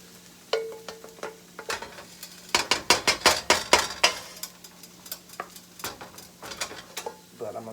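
Garlic sizzling in oil in a pan for shrimp and broccoli, with steady frying crackle broken by a quick run of loud clicks and scrapes as the garlic is stirred and moved around, close up.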